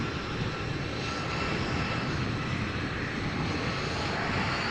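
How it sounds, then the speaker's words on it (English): A KLM Embraer jet turning on the ground at Amsterdam produces a loud, continuous engine roar and hiss that stays constant throughout, with no talk. "We have this Embraer from KLM."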